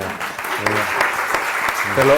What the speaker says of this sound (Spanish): creo que se merece Javier su aplauso.